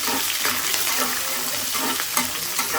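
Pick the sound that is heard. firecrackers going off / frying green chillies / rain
frying green chillies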